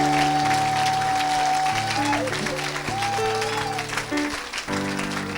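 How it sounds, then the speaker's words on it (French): Church congregation applauding loudly with dense steady clapping over sustained organ or keyboard chords and a sung or held tone, continuous throughout. "Acclamons très fort."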